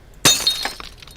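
A video game damage effect of glass breaking: one sharp, loud shatter followed by a brief scatter of tinkling fragments that fades within a second.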